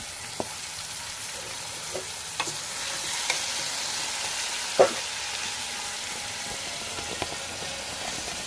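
Vegetables frying and being stirred in a pan for bottle gourd chutney, with green chillies, brinjal, tomatoes and bottle gourd: a steady loud sizzle with occasional spatula scrapes and clinks, no talk.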